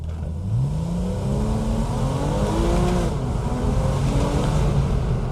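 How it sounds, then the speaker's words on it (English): A 2011 Porsche Boxster S engine revs up and holds high during a launch with left foot on the brake, a loud rising roar with a rough growl, close by and steady for several seconds. "I'll go left foot on the brake, build some revs in."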